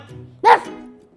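A dog lets out a single sharp bark on command, loud and close, after a short quiet lead-in and followed by quiet.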